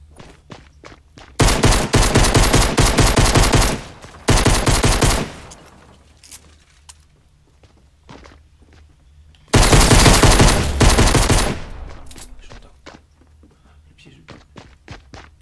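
Video game gunfire on a PS4 arrives in two loud, sustained bursts of rapid automatic fire, with a few scattered thuds and shots between them and voices talking over the action.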